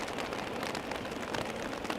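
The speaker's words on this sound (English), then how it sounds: "you guys can probably hear already, it is only starting to rain even harder" Heavy rain pours outdoors at Amsterdam Schiphol Airport, a loud, dense hiss of drops hitting surfaces close by, continuous and alone without voices.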